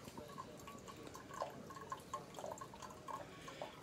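A Farberware single-serve K-Cup coffee maker brews a 14-ounce cup, giving a steady, quiet trickle of dripping and pouring water with small irregular splashes throughout.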